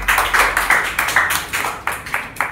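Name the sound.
applause, clapping for two students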